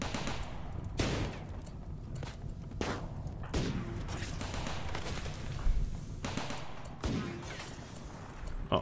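Sniper and rifle shots ring out in a RimWorld battle against fleeing stragglers, sharp separate cracks spaced across the span over a low steady background, fairly quiet overall.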